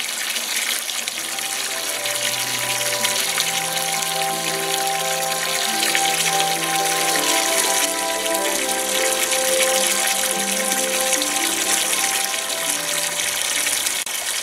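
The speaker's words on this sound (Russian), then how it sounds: "Помыла этот водоемчик и наполняю водой." Water gushes steadily from a hose or tap into a small garden pond, a continuous loud splashing that deepens slightly as the basin fills, with no voices.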